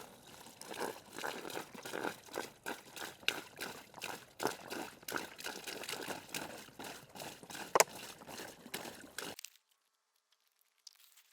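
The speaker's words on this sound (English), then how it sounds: "So I decided to pour water just into a backpack" Water pours into a Fram Talung backpack, giving a series of crinkling, sloshing splashes against the fabric in uneven bursts for about nine seconds before falling silent. The sound is close and fairly quiet, with no speech.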